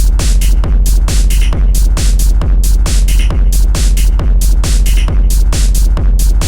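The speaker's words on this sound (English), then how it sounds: "This kind of squidgy loop that works well with the kick and the background tom loop." Dense techno percussion loop with a steady four-on-the-floor kick, bright repeating hits and a squidgy layered groove, loud and mechanical throughout.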